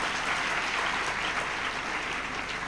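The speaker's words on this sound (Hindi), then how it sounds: "अरे ताली तो ढंग से बजा लो कम से कम भैया।" Audience at a talk clapping in a dense, steady round of applause, even and sustained from start to end with no voices over it.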